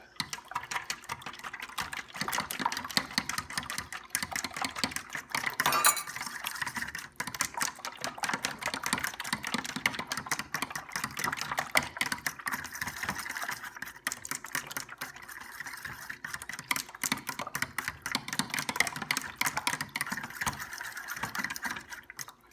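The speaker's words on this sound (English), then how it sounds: "I'm going to take a fork. I'm going to mix it all up" A fork whisks eggs in a bowl for French toast, breaking the yolks with a fast, steady clicking and tapping against the bowl that carries on evenly throughout.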